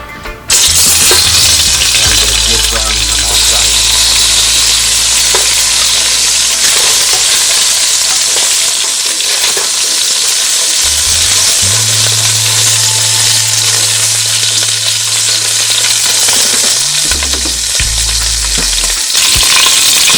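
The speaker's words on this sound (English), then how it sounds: "Now I'm going to brown my meat." Oxtail meat browning in about two tablespoons of olive oil, a loud, steady sizzle and crackle filling the whole stretch close up, with occasional scraping and stirring knocks in the pan.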